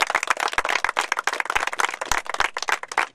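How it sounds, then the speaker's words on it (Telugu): A small audience claps by hand for a model farmer during a farm visit, distinct individual claps heard close and fairly loud in an uneven, overlapping rhythm rather than a dense roar. "కాబట్టి మనం అందరం ఒక బిగ్ రౌండ్ ఆఫ్ అప్లాజ్ ఇవ్వాలి"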